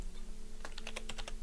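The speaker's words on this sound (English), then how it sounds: "let me just get my hands on the keyboard" Quick bursts of typing on a computer keyboard, a rapid string of crisp key clicks starting partway in over a faint steady hum, close and alone.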